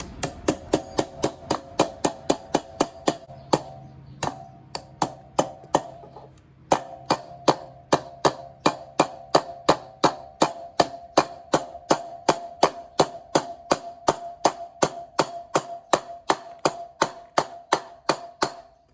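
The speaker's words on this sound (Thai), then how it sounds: "เราก็ใช้ค้อนเคาะ" A hammer taps a wheel bearing into its housing in steady, loud metallic strikes, dozens in a row at a brisk even rhythm with one brief pause, close by and with no talk.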